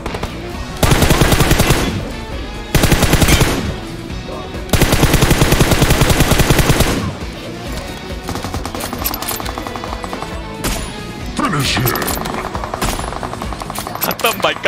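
M4 assault rifle and sniper rifle fire in a shooter video game: loud, rapid automatic bursts in several long volleys, then sparser, lighter shots crackling on to the end.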